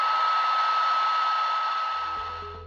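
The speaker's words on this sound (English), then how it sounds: "Pure antimatter can be contained by strong electrical and magnetic fields in a penning trap, which sounds like this." A Penning trap holding antimatter at CERN gives off a steady, even electrical hum with a single sustained tone, fading slightly before a low thump at the end.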